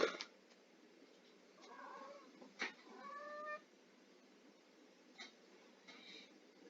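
A cat meows close by in a quiet room, a few short, faint chirping meows and trills scattered with pauses, with little else around.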